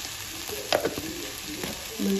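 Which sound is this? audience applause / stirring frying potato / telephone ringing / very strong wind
stirring frying potato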